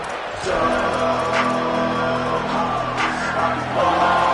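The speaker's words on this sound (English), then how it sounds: "This crowd bringing the energy and noise early." A dense American football stadium crowd in a video game roars steadily in the background, a sustained wash of cheering noise with some tonal layers beneath.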